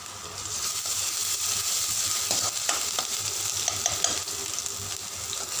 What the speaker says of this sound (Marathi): लसूण हा फुल गॅसवर छान तळून घ्यायचा